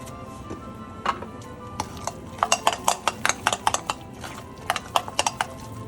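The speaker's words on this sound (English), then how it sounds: "This is it, just stir." A spoon scrapes and clinks against a bowl while low-carb ravioli filling is stirred, with light irregular taps that build into a quick run of clicks over a quiet background.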